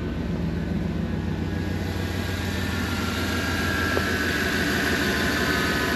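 A 1989 GMC Sierra 4x4 engine idles steadily after a warm restart, a smooth, even low rumble with a constant hum running throughout, close and continuous with no talk.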